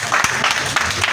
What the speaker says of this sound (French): Acclame pour toi-même.